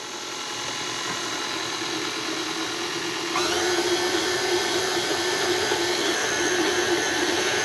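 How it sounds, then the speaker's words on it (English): KitchenAid stand mixer turning a paddle attachment through thick dumpling dough, a steady close mechanical whir and gear hum that steps up louder partway through and keeps running, with no talking. "We're gonna use our paddle attachment in our KitchenAid."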